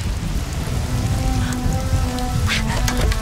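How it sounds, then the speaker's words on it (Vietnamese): Rain pours down outside in a steady, dense hiss of drops spattering on surfaces, loud and unbroken from start to end, with no talking. "Bên ngoài trời còn đang mưa."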